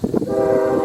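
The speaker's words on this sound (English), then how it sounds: "There's a train coming" A train rolls past close by with a loud, steady rumble, and a sustained horn tone rings over it for most of the moment. Some brief bumps come at the start before the sound settles.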